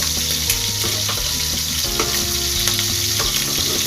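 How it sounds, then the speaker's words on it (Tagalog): Ingredients for pancit canton frying in a pan, a loud, close, continuous sizzle with bursts of crackle and scraping stirring, a low hum running underneath. "piniprito ko muna itong sahog"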